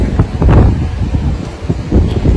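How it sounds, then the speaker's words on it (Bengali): Gusty wind with rain beating outside a window during a storm, uneven rushing buffets that swell and ease, loud and close with heavy wind noise against the microphone. "জানলা যেরকম বৃষ্টি পড়ছে, হাওয়া হচ্ছে, ওটাই হচ্ছে"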